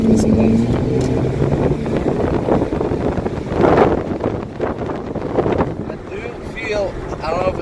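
Exhaust of a Lexus GS300 with the muffler deleted, a loud, rough drone running throughout, heard from close by with wind buffeting the microphone.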